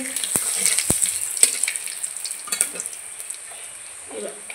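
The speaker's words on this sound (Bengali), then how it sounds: "এবার দিয়ে দেবো গোটা জিরে ফোড়ন, তেজপাতা দিয়ে দিচ্ছি," Whole cumin seeds and bay leaf crackle and sizzle in hot oil, opening with a couple of sharp pops and then settling into a lighter, continuous spitting, with a brief faint voice near the end.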